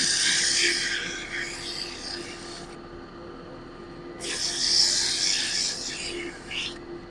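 Abrasive paper hisses against a wet sycamore bowl spinning on a wood lathe, the loud rough rasp stopping briefly mid-way and then resuming over a low steady motor hum.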